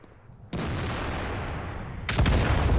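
Artillery gun fire in World of Tanks from the Conqueror GC tank destroyer: a loud broadband boom starts suddenly and rumbles on as a sustained roar, with a second heavier blast near the end.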